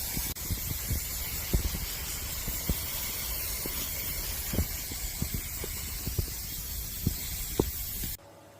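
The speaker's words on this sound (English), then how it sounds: "another layer of spray putty and then some more sanding" Steady, close hissing of spray putty from an aerosol can being applied to a 3D printed mold, a continuous spray with light clicks and taps underneath, cutting off abruptly near the end.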